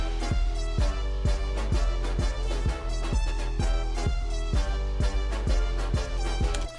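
Festival trap beat made in Ableton Live, with heavy meteor-style bass under steady punchy drum hits and bright synth layers, playing loud and continuous with a regular pulsing rhythm.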